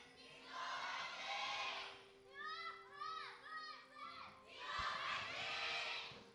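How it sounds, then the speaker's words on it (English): A packed esports studio crowd at an LCK Spring Split League of Legends match roars in two loud surging waves of cheering, with excited shouting voices rising between them. "as you guys can probably tell by the thunderous applause, the studio is entirely packed out"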